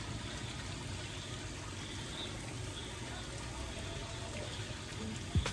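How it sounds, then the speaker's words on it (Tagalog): Hotel fountain in Tagaytay at night: a continuous, soft wash of splashing water, steady and fairly distant, with no talking over it and a faint bump near the end. "Yung tunog ng fountain."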